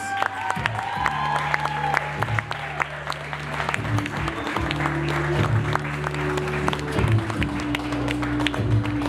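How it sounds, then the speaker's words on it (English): Wedding guests applaud a newlywed couple's first dance, lively clapping from a crowd in a reception hall over a slow song with steady low musical tones, continuing for the whole stretch. "Applaud them, please"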